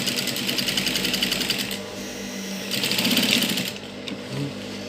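Sewing machine stitching school uniform shorts for boys, a steady rapid mechanical whir with bursts of needle clatter that pause briefly and resume, close and fairly loud.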